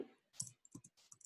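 Short burst of a computer keyboard as a command is typed, a few quick soft key clicks with pauses between them, faint and close.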